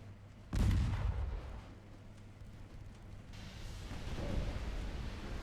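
A torpedo striking an enemy ship in the naval strategy game Ultimate Admiral Dreadnoughts, one sudden deep boom that decays into rumbling, followed by a softer swell of low battle noise.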